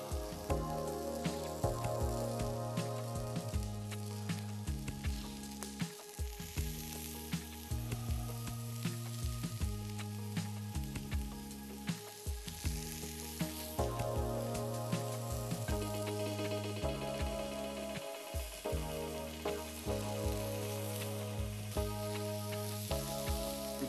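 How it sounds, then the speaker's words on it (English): Oil-brushed kebabs sizzle steadily on a hot grill, a dense continuous crackle running unbroken at close range with no talk, backed by a low rhythmic tonal pattern throughout. "You can hear that sizzling now. That shows how hot the grill is"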